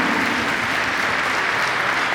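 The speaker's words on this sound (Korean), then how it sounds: "네, 큰 박수 부탁드립니다." Dense, steady applause from a large crowd of party members at a national convention, loud and continuous throughout with no break.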